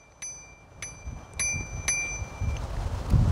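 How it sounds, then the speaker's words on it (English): Bell on a Polygon Cascade e-bike with a Bafang BBS02 mid drive rings four times in quick succession, each a bright, sustained ding that decays slowly over low outdoor rumble and light wind noise. "So it's got hydraulic disc brakes, came with a bell."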